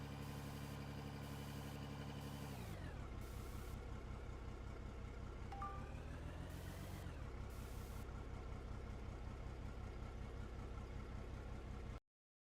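A dump truck in the mining game Out of Ore backs up: a droning engine with shifting pitch is overlaid by repeated reversing beeps in regular blocks, steady and loud, ending abruptly in silence.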